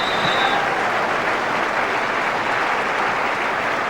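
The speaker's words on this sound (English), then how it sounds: "Just listen to the applause." A football stadium crowd at a Manchester United Premiership match against Everton applauds, a dense, even roar of clapping that fills the short stretch without a break.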